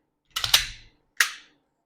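A Stoeger STR-9 pistol's magazine is released and drops out, giving a sharp cluster of clicks and a clatter followed by a single crisp metallic knock a moment later, close and loud with no talking.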